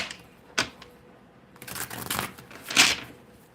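A few quick riffling bursts of tarot cards being shuffled, close and fairly quiet, with short pauses between them.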